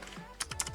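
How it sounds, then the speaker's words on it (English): Rapid clicks on a computer keyboard while typing in Python code for a Discord bot, several crisp keystrokes in quick succession, close and fairly quiet. "Now I'm going to type in welcome channel,"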